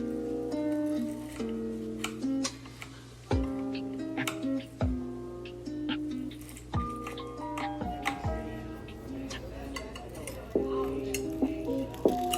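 Cutlery and dishes clink and tap sharply while food is served up, scattered bright metallic pings and knocks close by at an irregular pace, with occasional quiet voices underneath.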